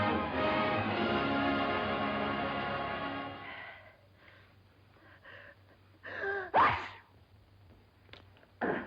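After a stretch of sustained voice, one sharp sneeze bursts out close by, followed by quiet rustling.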